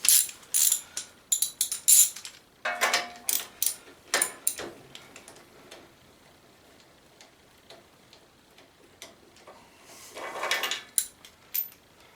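A ratchet wrench with a 5/8 plug socket backs out the spark plug of a Murray lawn tractor, producing quick clusters of sharp, close ratcheting clicks in short runs separated by pauses.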